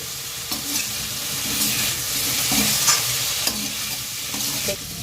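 Chopped onion is stirred into potatoes frying in a pan for an okra-potato fry; a steady sizzle carries periodic scraping and tapping strokes from the spatula, near and moderately loud with no voices.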